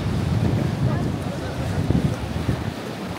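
Strong wind buffets the microphone at the seaside in Nida, a constant low roar with the wash of sea waves beneath it, and people talk faintly underneath.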